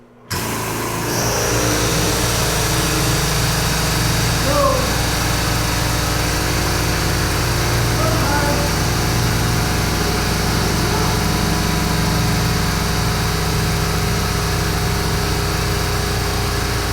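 An air compressor runs continuously while a motorcycle lift is being raised, starting abruptly and holding a loud, even mechanical hum and whine that stays steady and close for the whole stretch.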